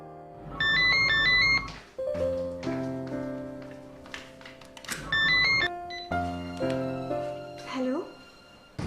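A mobile phone plays a chirpy melodic ringtone twice, bright beeping tunes separated by stretches of softer tones, clear and close with nobody talking.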